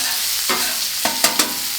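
Chicken cooking in the middle section of a Blackstone griddle: a close, steady frying sizzle with a few sharp scraping strokes of a spatula toward the end, no speech.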